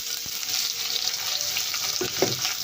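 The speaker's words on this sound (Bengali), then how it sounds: "পেঁয়াজটা দিয়ে দিলাম, ছোট সাইজের 2টো পেঁয়াজ।" Two small chopped onions fry in a pan with cumin seeds, a constant close sizzle broken by a few light clicks and stirring sounds.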